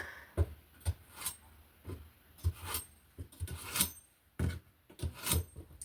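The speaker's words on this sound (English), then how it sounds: "So we're just going to go ahead and sharpen this knife." Steel strokes over a kitchen knife in an uneven series of close, rasping scrapes with a bright metallic ring, some with light knocks on a board, and no voices.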